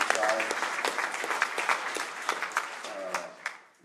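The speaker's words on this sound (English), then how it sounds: "Let's give her a round of applause." A round of applause rises from the audience at the National Lead Summit 2016, fairly distant, with steady clapping that tapers off at the end and speech mixed in.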